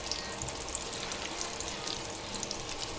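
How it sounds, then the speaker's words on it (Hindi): Frozen shami kababs frying in a pan, a steady even sizzle scattered with small sharp oil pops, fairly close and unbroken by speech. "बाकी का हम आपको फ्राई करके दिखाने के लिए हम फ्राई कर रहे"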